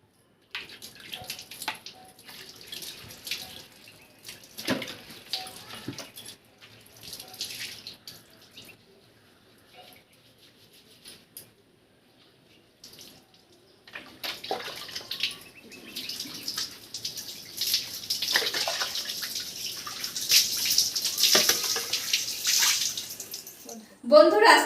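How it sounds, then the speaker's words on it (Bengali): Water runs and splashes while hair is washed after a hibiscus hair treatment, arriving in uneven bursts that grow louder and more continuous toward the end, close by. "চলো মাথাটা আগে ধুয়ে নিই"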